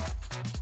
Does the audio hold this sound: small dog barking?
yes